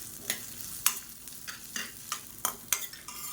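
Ginger and fenugreek seeds roast in a pan, stirred with a spoon that gives several sharp scrapes and clicks over a soft, quiet sizzle, with no talk.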